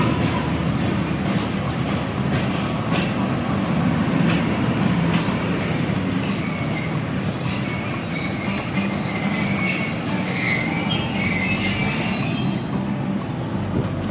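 Khyber Mail Express pulling into Kot Lakhpat station in Lahore, a loud steady rumble of rolling railcars with high, sustained wheel squeals throughout, heard close from the platform.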